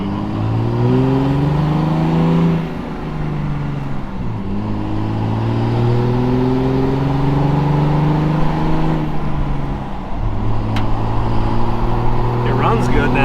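A truck engine fitted with an exhaust brake and airbags idles and revs close by, its loud droning hum rising and falling through several throttle swells, with a sharp click near the end.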